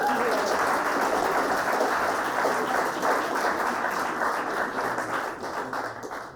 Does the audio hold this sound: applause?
yes